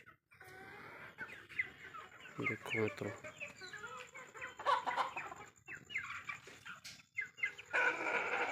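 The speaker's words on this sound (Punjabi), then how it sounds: "ਦੇਸੀ ਮੁਰਗਾ ਤੇ ਆਹ ਆਪਾਂ ਦੋ ਮੁਰਗੀਆਂ ਰੱਖਣੀਆਂ" Desi hens clucking and chattering nearby, mixed with someone talking over them and other farmyard noise.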